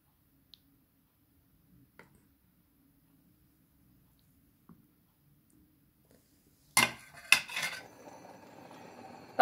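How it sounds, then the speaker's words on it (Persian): A lid clatters onto a metal pot of stuffed eggplant dolma with a couple of sharp clanks and a brief rattle, following near silence. "بعد درش رو میذاریم و روی حرارت قرار میدیم."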